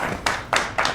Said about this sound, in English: Let's give a round of applause for Kate.